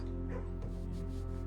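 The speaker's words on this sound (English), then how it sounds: "And also, puppies." Puppies in a kennel room of the video game Blue Prince give soft yips and whimpering barks, faint and brief over a steady hum of game music.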